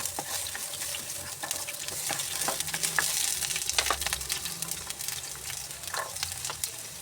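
Onion frying in oil in a pan, a continuous close sizzle with occasional crackles and light scraping stirs, moderate in level and heard without talk.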